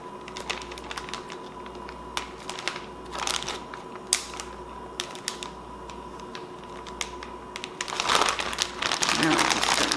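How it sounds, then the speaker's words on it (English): A Ziploc plastic bag holding Spam is pressed shut, giving scattered crinkles and small clicking snaps up close, then louder rustling handling near the end, over a low steady hum. "We're going to Ziploc the bag."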